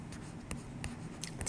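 Pen or marker scratching out a trig reciprocal on paper or a board in a math lesson, with several short, faint strokes spaced unevenly through a quiet stretch.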